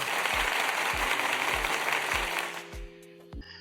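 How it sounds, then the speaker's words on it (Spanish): Applause welcoming a guest, dense clapping under steady rhythmic music beats, fading out near the end as the music continues alone. "Vamos a recibir con un fuerte aplauso a Roberto de Petando la Realidad"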